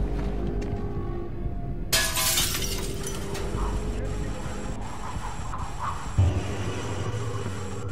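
Glass shatters loudly in Tom Clancy's The Division during a Gramercy mission, a sudden bright crash over steady game background noise, followed by falling fragments and a low thump later.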